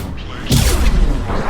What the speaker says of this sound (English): Significant explosion.